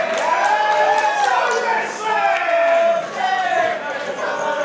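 A large wrestling crowd in Birmingham, England, chants in loud, sustained, sing-song waves that swell and dip across the hall, filling the space with massed voices.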